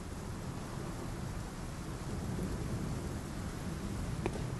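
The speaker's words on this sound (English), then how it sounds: "Just a rainy little hamlet." Steady rain and thunder roll over a small hamlet in Bloodborne, a dense, continuous wash of rainfall with low rumbling beneath it.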